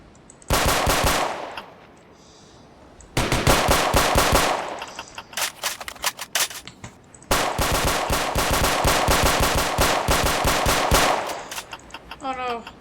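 Loud automatic gunfire in the Roblox-style game Warship RP: long rapid bursts of machine-gun shots with short pauses between volleys, close and dominant, with a player speaking in the gaps.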